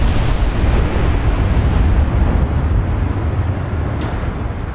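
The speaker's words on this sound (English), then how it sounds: "Torpedo hits." Heavy, sustained explosive roar of torpedo hits striking a warship in a naval combat video game, a dense rumbling blast that fills the whole clip with no voices.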